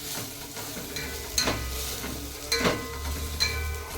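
Dry coconut roasts in a pan, soft frying crackle under three distinct scraping strokes of a spoon stirring it, close and quiet.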